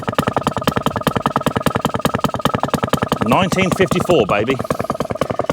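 Close by, a restored 1954 Atco Midget mower's Villiers Mark III two-stroke engine chugs in a steady, even popping rhythm throughout, with someone speaking briefly over it midway.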